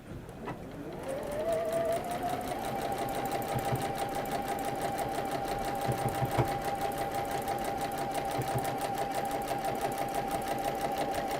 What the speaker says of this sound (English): She's still sewing away.